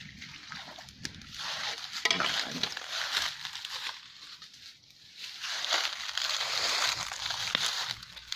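Water bubbles and churns vigorously in a pot, a continuous rolling boil with sloshing surges, close by and fairly loud.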